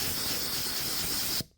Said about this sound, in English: spray the mold.